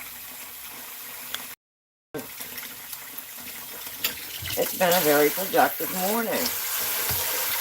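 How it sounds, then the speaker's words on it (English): A kitchen tap runs, its water splashing steadily under a voice, with louder gushing and clattering near the end. "Get that water turned off."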